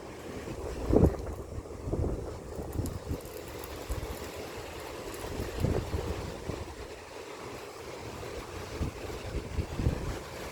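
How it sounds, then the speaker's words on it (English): Wind gusts in bursts on an open, sandy shore as a storm cell approaches, buffeting the microphone with rough, uneven rumbles and no voices. "wind's starting to pick up."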